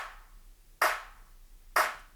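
Two sharp layered electronic clap hits, one built from a Roland 909 clap sample, land about a second apart. Each is a bright, punchy snap with a short tail, standing alone in a quiet beat.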